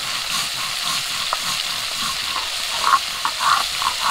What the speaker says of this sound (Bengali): তেলটা গরম হয়ে গেছে, চিংড়ি মাছগুলো আগে ভেজে নেব।